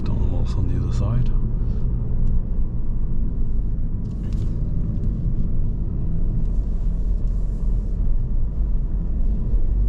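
Alfa Romeo Giulia driving through tight Barcelona city streets, a steady low engine and road rumble running continuously throughout, with a few brief higher rattles near the start.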